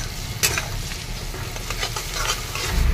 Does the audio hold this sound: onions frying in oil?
yes